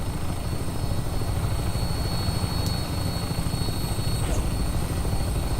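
Aircraft engine in a video game spooling up for takeoff, a steady loud rotor-like drone with a faint thin whine running throughout.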